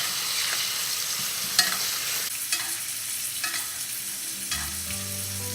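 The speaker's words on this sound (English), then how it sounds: "Now I'm sort of just gonna roast the steak a little bit." Steak roasting in a pan with butter sizzles steadily up close, broken by a few sharp clinks and scrapes of the pan and utensil, with no one talking.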